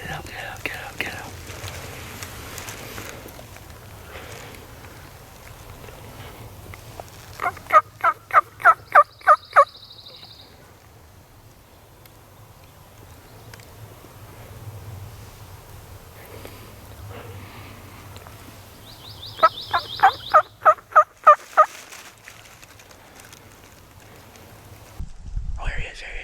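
A wild turkey gobbler in the mountains gobbles twice in rapid rattling bursts, fairly distant but distinct, while hunters whisper nearby.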